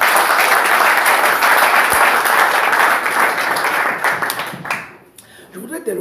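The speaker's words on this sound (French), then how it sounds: "Applaudissons pour le Seigneur." Audience applause at a French-language church service, loud and dense broadband clapping for about five seconds, then thinning out and fading as a voice begins.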